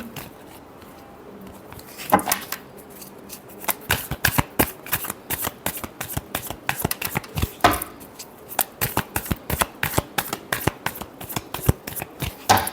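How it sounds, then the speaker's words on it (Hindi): Tarot cards being shuffled by hand, a quiet riffle at first, then a rapid run of crisp, evenly spaced snaps and flutters that carries on close and alone. "Last shuffle."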